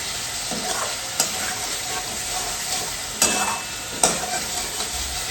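A spice masala for fish curry fries in oil, giving a constant close sizzle broken by a few sharp spatula scrapes and stirring knocks, with no talking.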